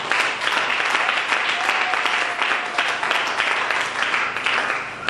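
A church congregation applauding together, a dense, steady wash of many hands clapping that stays loud and even throughout.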